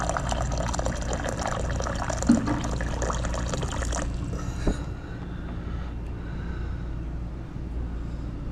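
Hot water runs from a dispenser into a cup for coffee, a steady pouring rush for about four seconds that then cuts off, leaving quiet room hum with faint clinks.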